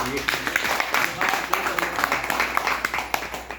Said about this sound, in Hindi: अपने आप के लिए एक बार जोरदार ताली से